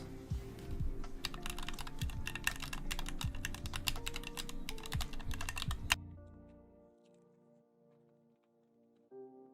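Rapid typing on an assembled YMDK 96 mechanical keyboard fitted with lubed ZLPC switches, a close, steady flurry of muted clacks lasting about six seconds before stopping abruptly.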